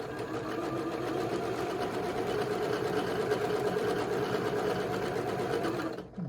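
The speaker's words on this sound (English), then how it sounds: "we'll set up the rest of the block to be sewn" A sewing machine stitches a quilt block in one steady, continuous whirring run at close range, stopping abruptly near the end, with no voices.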